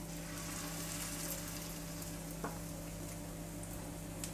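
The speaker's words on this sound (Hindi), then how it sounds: "चम्मच की सहायता से हम बैटर को तवे के ऊपर डालेंगे" Sooji breakfast batter spread on a hot tawa over a low gas flame with little oil, giving a steady soft sizzle and hiss throughout, fairly faint and continuous with a low background hum.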